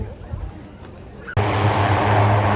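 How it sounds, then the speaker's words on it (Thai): A C-130 military transport aircraft taxis at an air base during a friendship festival, its broadband engine and propeller roar cutting in abruptly halfway through and holding steady and loud, after a quieter stretch of ambient crowd noise. "อันนี้คือเครื่องบิน C 130กำลังจะเทคออฟ"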